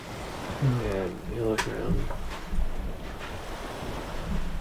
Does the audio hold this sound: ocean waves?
yes